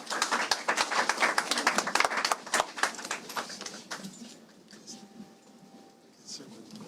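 Applause from the audience after a speech at a press conference held by a media coalition against galamsey, dense clapping that thins out and fades toward the end.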